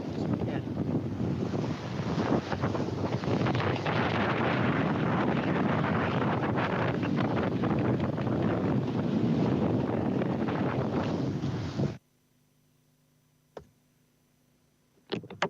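Wind roars steadily with waves washing against a sailboat offshore, loud and continuous for about twelve seconds, then cuts to near silence with a couple of faint knocks.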